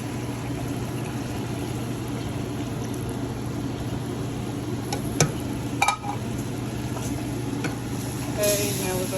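Jamaican pepper steak sizzles steadily in a pan while brown gravy mix is stirred in, with a few louder scraping clinks of the spoon against the pan over the constant frying hiss.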